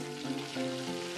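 Shallots stir-frying in hot oil with shrimp paste for sambal bawang, a steady close sizzle and crackle running throughout, dense and even.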